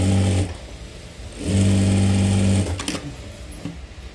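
A sewing machine stitches a blouse with two loud, steady motor-driven bursts of rapid needle clatter, separated by a short pause and followed by quieter handling noise.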